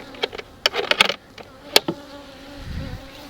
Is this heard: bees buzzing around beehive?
yes